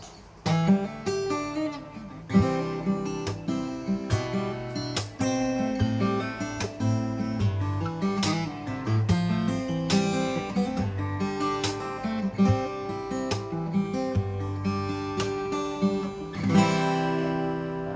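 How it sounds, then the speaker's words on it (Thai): Acoustic guitar picking a steady melodic pattern with a light shimmering effect from a TransAcoustic guitar layered over the dry tone, close and continuous with no talking. "อันนี้คือเสียงเอฟเฟกที่ได้ยิน"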